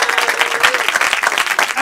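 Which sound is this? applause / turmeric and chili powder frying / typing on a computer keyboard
applause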